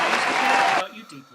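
A short burst of applause and cheering from a crowd fills most of the second, then drops away abruptly into quieter background sound.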